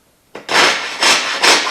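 A hand saw rasps through wooden baseboard, making a relief cut at a curve: three loud, close scraping strokes in quick succession after a brief quiet start.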